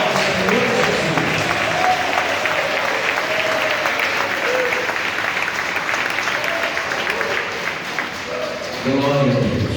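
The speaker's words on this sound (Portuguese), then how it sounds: "batam palmas e glorifiquem ao Senhor Jesus" A church congregation claps hands steadily through the whole stretch, loud and dense, with voices mixed in and a brief dip in the clapping before it picks up again at the end.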